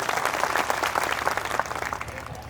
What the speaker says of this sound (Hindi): जोरदार तालियां बजाएं ऐसे शिक्षाविद के लिए।